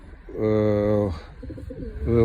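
Pigeons in a loft coo nearby with low, drawn-out throaty calls, while someone talks over them.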